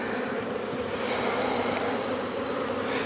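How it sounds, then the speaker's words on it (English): Agitated honey bees swarm around a beekeeper working an open hive box, giving a steady, dense buzzing close by, continuous and fairly quiet, with no talking. "A few bees on me now. Pretty upset."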